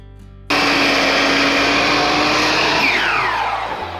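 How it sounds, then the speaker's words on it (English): A compound miter saw spins up abruptly and cuts through handrail stock, a loud steady whine and roar holding for over three seconds before starting to wind down, with no talking. "let's set this up on the compound miter saw and cut it"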